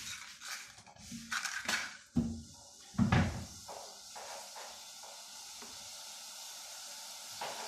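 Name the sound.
sugar syrup starting to boil in a pan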